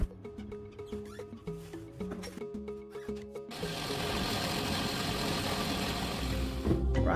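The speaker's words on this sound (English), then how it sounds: "So I'm gonna blend all this together." Blender whirring through crayfish, pepper, onions and scotch bonnet, starting after a few seconds of rhythmic knocking, then holding a loud steady grind to the end.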